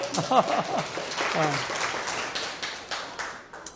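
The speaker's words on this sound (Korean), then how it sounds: "박수 한번 보내주세요." Lecture audience claps after a speaker's talk, steady applause from a hall that gradually fades, with the speaker's voice heard briefly at the start.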